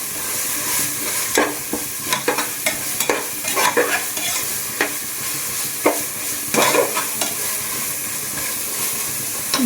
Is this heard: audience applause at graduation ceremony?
no